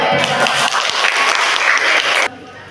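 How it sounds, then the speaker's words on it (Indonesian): Dense crowd applause at a university teacher-training programme event, many hands clapping at once, loud and steady for about two seconds before cutting off abruptly. "Kasih tepuk tangan."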